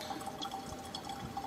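Water drips and trickles softly from a Ninja coffee bar single-serve machine running its clean cycle, a faint steady wet patter with no voices.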